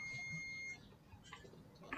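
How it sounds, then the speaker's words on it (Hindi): A continuity beep from a multimeter probing a Samsung A207 phone board for a short: one steady, clear tone lasts about three-quarters of a second and then cuts off, leaving faint background noise. "तो देख सकते हैं अभी भी बीप आ रही है इसमें"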